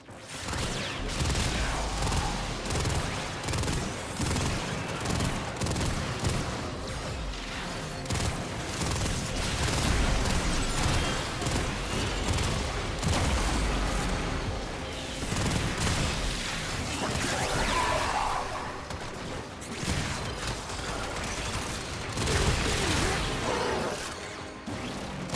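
Pulse-fire weapon in the Warframe video game, dense bursts of rapid shots and crashing impacts pounding continuously, with whooshing effects mixed in.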